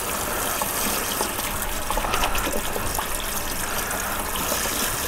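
Tap water gushes steadily over Yamaha V-Star 650 motorcycle brake parts being rinsed without soap, a continuous close splashing wash with no talking.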